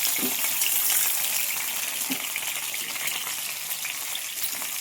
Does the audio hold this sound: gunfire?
no